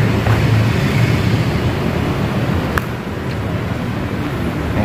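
Steady, broad low rumble of road traffic, heard inside an abandoned pharmaceutical production warehouse, continuous and fairly loud with one brief sharp knock partway through and no talking.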